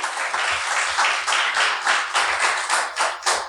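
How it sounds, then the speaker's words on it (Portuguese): A church congregation applauding during a sermon: a brisk run of rhythmic claps, close and fairly loud, pulsing steadily for a few seconds. "Você pode aplaudir esse Deus?"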